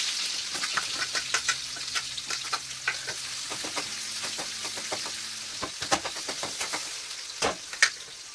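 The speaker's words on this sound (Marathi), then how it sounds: "थोडीशी जिरी आणि मोहरी टाकली. थोडंसं लसूण अद्रक, त्यानंतर जाईल कांदा." Cumin, mustard seeds, garlic, ginger and onion fry in oil, giving a steady sizzle dotted with many sharp crackles and pops and occasional stirring knocks, close up and without talk.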